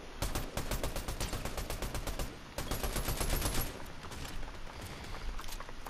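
Rapid automatic gunfire in the Fortnite video game, long dense bursts of shots firing continuously with a brief pause midway, loud and sustained.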